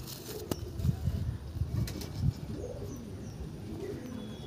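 Pigeons in a loft give soft, low, repeated coos up close during the first half, with a few faint clicks and quieter background after.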